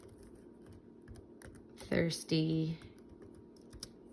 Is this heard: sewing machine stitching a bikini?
no